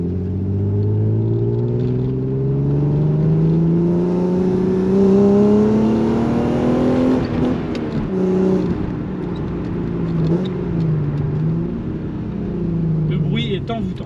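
An Alfa Romeo GTV6 3.0 V6 engine drones steadily while driving, its exhaust note rising and falling with gear changes, loud and close throughout.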